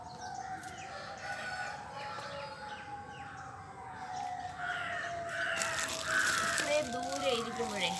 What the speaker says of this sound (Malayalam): ആംബുലൻസിൻ്റെ സൗണ്ട് കൂടുതലായിട്ട് വരുന്നുണ്ട്.